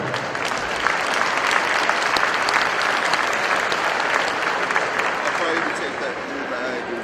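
A large crowd gives a sustained round of applause for exhibitors at a national Jersey cattle show, even continuous clapping at a steady level for the whole stretch, with voices faintly mixed in.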